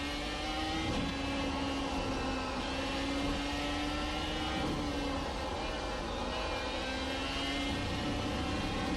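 Dallara iR-01 race car in the iRacing sim under throttle: a loud, continuous high-pitched engine scream that rises and falls through gear changes and revs, close and steady with no voices.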